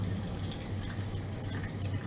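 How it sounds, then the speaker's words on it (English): Water drips through a wet paper coffee filter into a decanter, a steady trickling patter with a low resonant gurgle, close and continuous with no voices. "the sound of the dripping water into the decanter"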